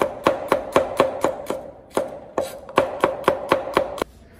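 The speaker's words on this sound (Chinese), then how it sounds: "蒜子切片" Garlic cloves being sliced with a knife on a chopping board, a brisk run of about fifteen sharp, close knocks in a steady rhythm with one short pause midway, no voices.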